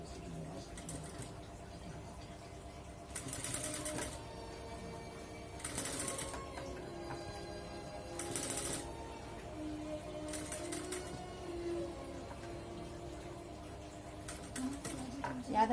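A sewing machine stitches fabric for a Rajputi kanchali blouse, running in short, faint whirring bursts separated by quiet pauses.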